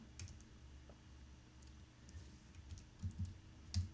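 Quiet computer keyboard keys pressed in a few soft, scattered clicks, with a small cluster of sharper taps near the end over a low background hum.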